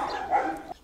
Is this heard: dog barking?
yes